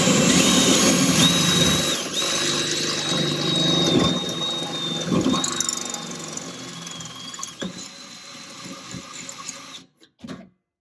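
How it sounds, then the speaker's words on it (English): A power drill bores holes for fuel cell mounting tabs, a sustained high whine under load that runs for about ten seconds with small pitch shifts and brief pauses, then stops. "So, gonna start drilling some holes."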